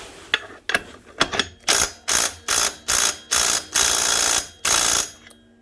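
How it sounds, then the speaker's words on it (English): An impact wrench hammering at a tight bolt during gearbox removal on a Polaris Ranger 570 EFI: about ten loud, close bursts of rattling impacts, short at first and then longer, separated by brief pauses. "Okay, so we need a bigger impact wrench."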